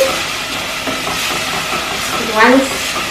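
Chicken and lentils simmer in a pot, giving a steady, loud hiss throughout, with a brief voice near the end.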